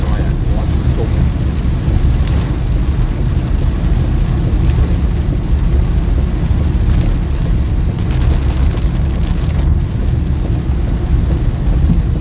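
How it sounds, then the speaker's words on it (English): Heavy rain pours down during a thunderstorm in Iowa, a steady dense hiss with low rumbling underneath that holds constant throughout, with no clear speech over it. "we got some pretty heavy precipitation"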